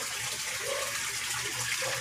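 Water rushes steadily through the inlet of a koi pond filter into the bio chamber, a continuous close gushing wash with no break.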